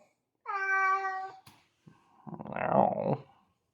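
A cat gives one clear, tonal meow, followed after a short pause by a breathier, noisier vocal sound, both close and loud in an otherwise quiet indoor space.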